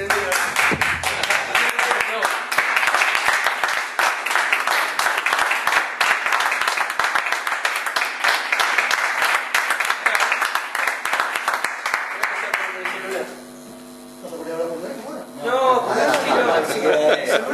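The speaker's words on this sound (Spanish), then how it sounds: "Un aplauso para Ernesto, es un orgullo." An audience at a poetry and tango evening in San Lorenzo claps warmly and steadily for a long stretch, mixed with chatter and laughter. The applause briefly dips, then voices and a fresh burst of sound pick up again.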